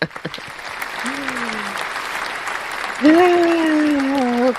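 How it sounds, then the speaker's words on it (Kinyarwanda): Applause from a crowd runs steadily in the background while a voice speaks over it. Partway through, a sustained tonal hum swells louder above the clapping. "reka tubakomera amashyi ba Rugaba"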